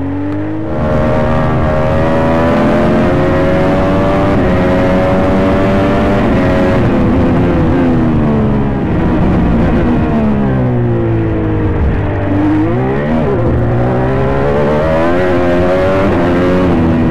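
A loud, close IndyCar race car engine screams through rising and falling revs with sweeping pitch changes, sustained high-revving whine throughout with no talking.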